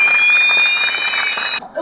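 Audience at a teachers' singing contest final in Van applauding the saz ensemble onto the stage: dense, loud clapping throughout, with a voice talking over it.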